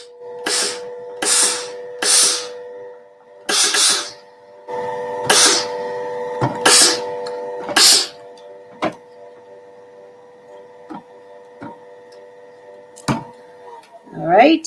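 Dull, repeated thumps and soft hissing bursts while a garment hem is pressed with a tailor's clapper, loud and close in irregular clusters over a steady hum, with a voice briefly at the end.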